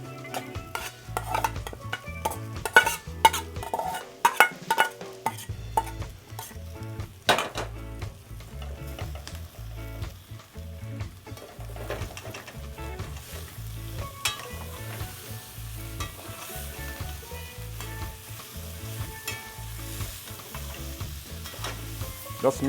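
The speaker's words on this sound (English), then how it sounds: "Just mix up everything, make sure all the salt will go right through it." Saltfish being stirred into boiled ground provisions in a pot in Paramin, Trinidad, with sizzling frying and frequent clanks and scrapes of a metal spoon against the pot throughout.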